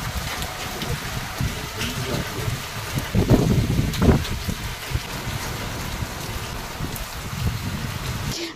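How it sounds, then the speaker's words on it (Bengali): Heavy morning rain pours down in bad weather, a steady dense hiss with a low windy rumble that swells briefly midway, with no voices. "প্রচণ্ড পরিমাণে ওয়েদার খারাপ আর ঝমঝমের বৃষ্টি শুরু হয়ে গেছে"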